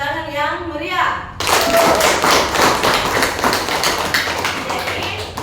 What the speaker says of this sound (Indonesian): Kita memberikan tepuk tangan yang meriah.